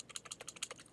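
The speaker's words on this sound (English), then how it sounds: "Now I could type" Quick bursts of keystrokes on a computer keyboard, about a dozen light clicks in an uneven rhythm, close and fairly quiet with no voice.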